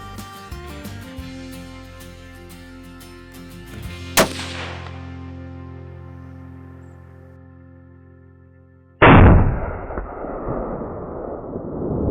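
Single sharp crack of a Tikka T3X rifle in .243 Win fired at a rabbit 87 metres away outdoors, loud and close. A second, louder sharp blast follows later with a rough decaying tail.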